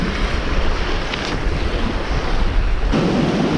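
Heavy sea swell of five to six feet surges onto a UK shoreline, making a loud, continuous roaring wash with gusty wind buffeting the microphone and a fresh surge building near the end, no voices.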